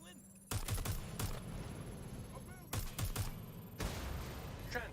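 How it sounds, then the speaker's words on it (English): Gunfire crackles in the video game Watch Dogs Legion, with loud bursts of rapid shots in separate volleys and hard cracks between them, over steady background noise. "Someone's shooting!"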